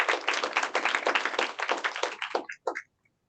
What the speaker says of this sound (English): Round of applause, please, for Dr.